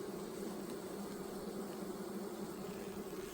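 Bees in an opened beehive give off a continuous, even buzzing hum, moderately faint and steady throughout, with no voices.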